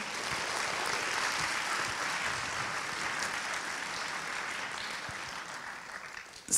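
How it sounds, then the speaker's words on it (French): Audience at a conference-show in La Baule applauding loudly and steadily, a dense wash of clapping that holds for several seconds before easing slightly at the end. "Je crois qu'on peut l'applaudir très fort."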